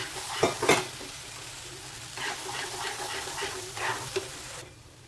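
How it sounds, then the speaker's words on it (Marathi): Boiled water poured into moong dal halwa cooking in ghee, hissing and sizzling with a couple of sharp splashy bursts up front, then a steady fry with stirring scrapes. "असंच उकळलेलं पाणी घालायचं."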